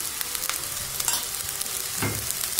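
Pieces of Indian gooseberry with salt and turmeric fry in a pan, giving a constant close sizzle with scattered light spoon scrapes and one heavier stir near the end, with no voices.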